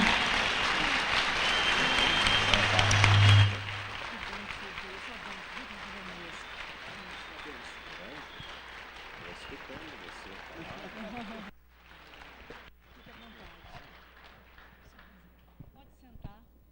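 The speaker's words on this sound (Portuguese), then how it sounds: "Eu convido vocês a ficarem de pé para acolhermos o nosso pastor, Dom Jeremias, da Diocese de Paranavaí. Uma salva de palmas." Loud applause from a standing church congress audience greeting Bishop Jeremias of the Diocese of Paranavaí, strongest for the first few seconds, then a steadier clatter of clapping mixed with crowd murmur that thins out toward the end.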